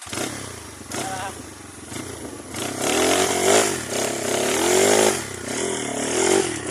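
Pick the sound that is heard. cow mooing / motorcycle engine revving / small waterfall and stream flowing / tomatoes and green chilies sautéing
motorcycle engine revving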